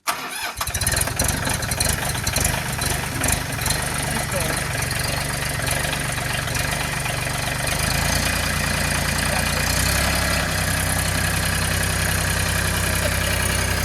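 A Mahindra 1626 compact tractor's engine cranks and catches, then settles into a steady loud idle close by on a cool day, its low rumble continuing alone through the rest of the clip.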